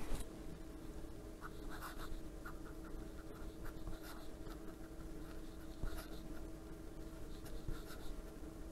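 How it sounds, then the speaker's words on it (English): A fountain pen scratching quickly across paper in a quiet room, a fast continuous run of dry, thin strokes with small ticks, close and fairly soft. "And some quick writing."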